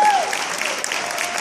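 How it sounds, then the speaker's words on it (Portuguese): Audience applause for a young guitar student after her performance, a loud, dense burst of many hands clapping close by, steady for the whole short stretch. "Palmas para essa menina."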